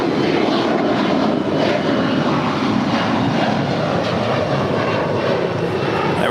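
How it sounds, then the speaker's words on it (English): A United Airlines Boeing 787-9 Dreamliner taxis toward the terminal at LAX, a steady loud broadband jet engine roar that holds constant throughout with no speech. "It's a 787-9 Dreamliner making her way over to Terminal 7 here on the south side."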